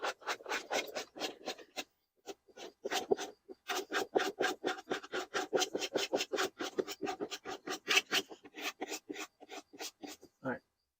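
Stickers being scraped off a vehicle: a quick run of rhythmic rasping strokes, fairly close and steady, broken by a couple of short pauses.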